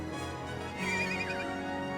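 Horse in the game Live A Live neighs over a dense, continuous game soundtrack, a warbling whinny rising midway through and fading, steady and fairly loud throughout.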